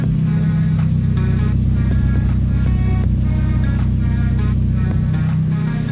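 A 1993 Mazda Miata NA with newly installed CX Racing headers idles on a cold start. It gives a loud, steady, low rumbling drone with a constant hum and no revving, recorded close to the car.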